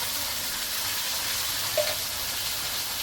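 Spice masala for dum aloo sautéing in hot oil, a steady broadband sizzle throughout with one brief small pop near the middle.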